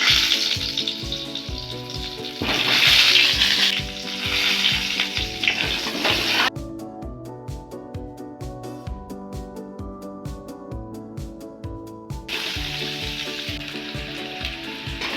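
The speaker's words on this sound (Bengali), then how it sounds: "কড়াইতে আলুগুলো দেবো।" Potatoes frying in hot oil in a kadai, a steady close sizzle with a loud burst of spattering early on as they go in, later a thinner crackle alongside rhythmic background music.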